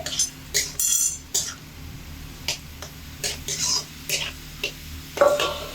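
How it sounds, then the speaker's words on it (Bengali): Soft background sizzle of potatoes frying in oil, broken by repeated scraping and clinking of a utensil against the pan. "আলুগুলোকে তেলের মধ্যে রেখে মোটামুটি তিন মিনিট সময় ধরে ভেজে নিলেই কিন্তু আলুগুলো ভাজা হয়ে যাবে"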